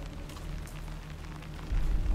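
Steady rain falls in the Alan Wake 2 gameplay trailer, a continuous close hiss of drops on surfaces, with a low rumble swelling in near the end.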